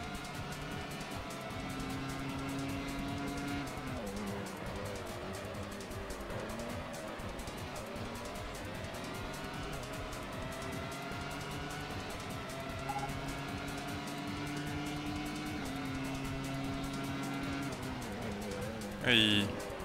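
Race cars from the Grand Prix Challenge PS2 game drone and whine continuously, engines shifting pitch through corners with occasional tire squeal from locking wheels, while someone talks over the game audio.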